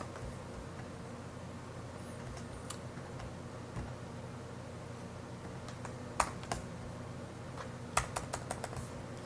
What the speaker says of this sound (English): Adjusting my brush size by the bracket keys